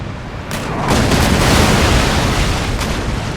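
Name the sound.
chain shot and cannon fire at ship, video game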